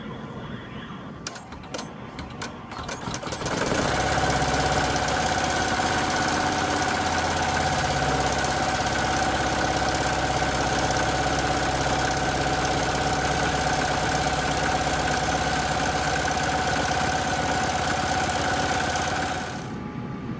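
An embroidery machine stitches out a name on a crochet tote bag, its motor running in a steady, dense mechanical whir with a faint rhythmic knock that holds evenly for most of the stretch before cutting off.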